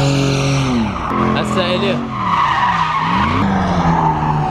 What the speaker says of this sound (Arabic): جاهزين للتفحيط الزين؟